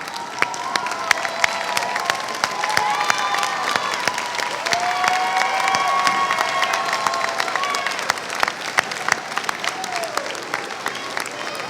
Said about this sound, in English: Parents and guardians, please stand so that we here in the front may thank you with a round of applause.